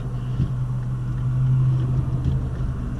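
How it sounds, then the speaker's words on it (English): A heavy truck rumbles past on a road with a steady low engine drone, fairly close, no voices. "I'll wait for one more car to go by after this truck"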